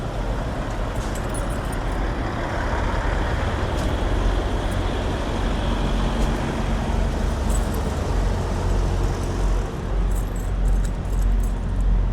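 Large bunch of keys on a keychain jangling steadily outdoors for several seconds, with a bright metallic rattle over continuous road and traffic noise.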